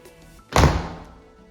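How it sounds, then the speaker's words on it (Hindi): A standing shower door in a house bathroom swings shut with a single solid thunk, close and fairly loud, fading quickly into quiet. "दरवाज़ा बंद।"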